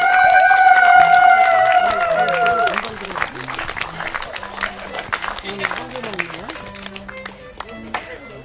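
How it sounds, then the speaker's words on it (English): A group of people clapping their hands at a casual gathering, a dense run of sharp claps that starts loud beside a sustained tone, then continues as scattered taps mixed with talking voices. "Everyone clapping your hand."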